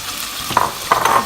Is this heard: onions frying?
yes